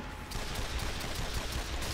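A dense, noisy burst of rapid gunfire from the zombie shooter game Sniper Elite Nazi Zombie Army fills two seconds, loud and continuous with repeated shot impacts and no voices.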